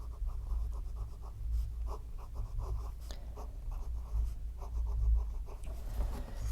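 A Pelikan M800 Souverän Green Demonstrator fountain pen writes on paper with Waterman Serenity Blue ink, giving soft, close scratchy strokes in a steady rhythm of short repeated movements, with no voices.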